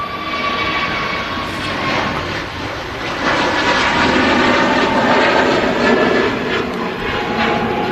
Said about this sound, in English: It goes an EasyJet service to Sharm el Sheikh.